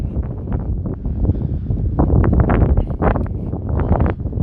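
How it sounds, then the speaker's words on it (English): Gusty outdoor wind buffets a phone microphone, producing loud, low rumbling thumps and bursts of distortion that rise and fall unevenly without pause. "I know it's pretty windy out, so hopefully you'll be able to hear me."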